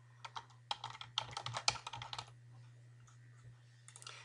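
Someone types on a computer keyboard, a quick burst of soft clicking keystrokes at close range, then a pause and a few more taps, over a low steady hum.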